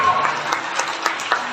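Congregation clapping during a lively church service, a thin, uneven patter of hands with a few sharper claps, heard at close range alongside some background voices.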